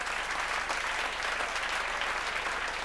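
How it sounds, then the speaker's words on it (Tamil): Audience at a Tamil Pongal festival stage event in a hall applauds steadily, a dense continuous wash of hand claps holding at even volume throughout with no voices over it. "எல்லோரும் நல்லா கைத்தட்டி பார்."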